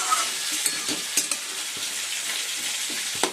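Sugar fries in oil in a kadai, a close hissing sizzle punctuated by a few sharp metallic clicks of a spatula against the pan, with no talking.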